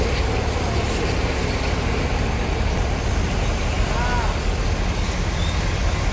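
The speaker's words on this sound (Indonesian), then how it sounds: "Truk kargonya" Continuous low rumble of heavy cargo trucks and large vehicles passing along a busy city road, a dense, steady roar of traffic with a faint voice somewhere in the mix.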